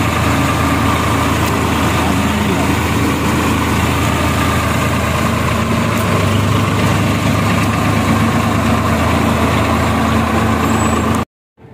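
A parked tractor's engine idles steadily and loud nearby, a continuous low rumble that holds for about eleven seconds before cutting off abruptly.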